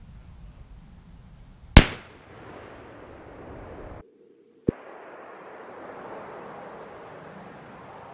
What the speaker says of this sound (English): Let's see if we can try not to shoot the same hole with the 458 here